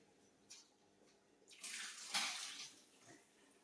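Running water splashes quietly while brine shrimp are rinsed, coming in a few soft gushes that swell and fade, with no voices.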